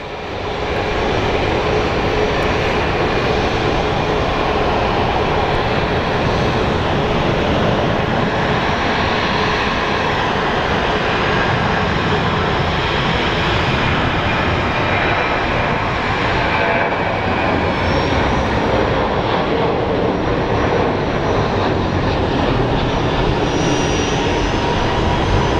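An airliner that had long been waiting at Phoenix Sky Harbor finally moves off, its engines giving a loud, steady, continuous roar that holds evenly for the whole stretch with no voices.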